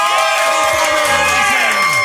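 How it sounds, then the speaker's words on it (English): A crowd cheers and whoops for race car driver Bobby Allison, a short loud burst of shouting and cheering with voices rising over it. "Everybody give a round of applause."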